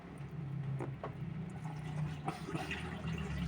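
Water pours steadily into an automatic washing machine as a continuous splashing, gurgling flow with a low hum beneath, moderately close and unbroken.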